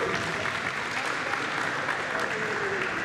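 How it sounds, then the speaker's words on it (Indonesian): Steady applause from a seated crowd at a futsal cup ceremony, continuous dense clapping filling the room at moderate distance with no break. "Tepuk tangan untuk"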